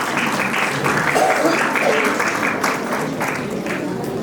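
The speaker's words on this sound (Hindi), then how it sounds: "तालियां बजाइए।" A school annual day audience claps steadily for young children receiving awards at a play school, the applause sustained and fairly loud throughout with a faint voice briefly underneath.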